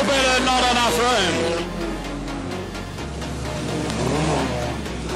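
Production sedan race cars roaring around Gympie Speedway, engines revving loud and close with shifting pitch as the pack sweeps through a corner, under a steady wash of track noise.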